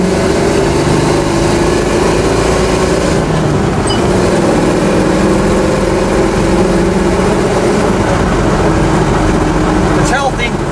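A 1970 Chevrolet Nova with a 350 V8 runs loud and steady throughout, its low engine roar sustained under the drive with no clear rev peaks.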